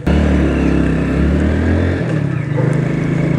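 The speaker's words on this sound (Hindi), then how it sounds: "तो गाइस करते हैं बाइक को स्टार्ट और चलते हैं" Motorcycle engine running and pulling away, a loud close steady drone with a brief dip midway as the bike moves off.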